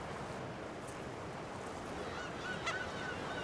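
Black-tailed gulls at a nesting colony on Dokdo island, a few faint honking calls carried over steady wind and surf noise, distant and partly masked by the roar of the sea.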